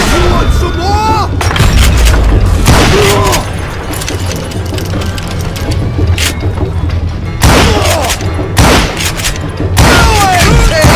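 Loud, booming gunshots from the Western shooter Call of Juarez Gunslinger ring out in several heavy bursts spread across the stretch, with shouted character voices in between.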